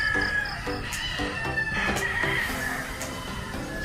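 Chickens and a rooster at poultry farms beside a road to a resort, with repeated clucking and a crowing call over a steady, fairly loud outdoor background.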